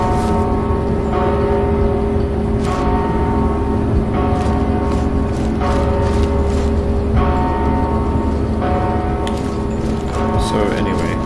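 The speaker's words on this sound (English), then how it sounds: "whenever the fart is here, the bell rings like crazy" A bell in the Mortal Shell video game rings over and over in quick, loud strikes with ringing overtones, layered over a dense, steady game soundscape.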